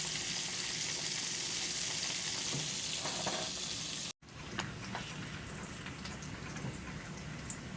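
Bacon renders in a pan with a steady, close, crackling sizzle and scattered sharp pops. The sound cuts out for an instant midway, then the frying continues slightly softer.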